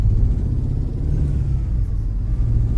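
A Magirus Deutz truck engine in Euro Truck Simulator 2 drones loudly through gear changes, a steady low rumble that holds level for the whole stretch with slight rises and dips.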